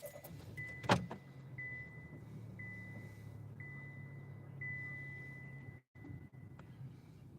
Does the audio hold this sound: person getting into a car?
yes